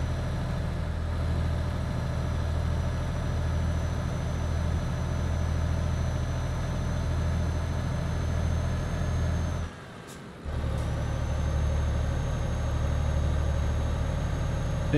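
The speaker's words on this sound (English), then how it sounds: "we can hear the good roar of the engine" A truck engine in Euro Truck Simulator 2 roars in a steady, loud, continuous drone, briefly cutting out for a moment before resuming just as strong.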